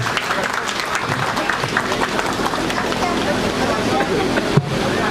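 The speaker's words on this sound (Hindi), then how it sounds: "इसलिए एक बार और तालियां बजाइए प्लीज" Wedding guests at a mehandi and sangeet ceremony applaud in a dense, steady wash of clapping that runs throughout, with crowd chatter and voices mixed underneath and a brief sharp knock near the end.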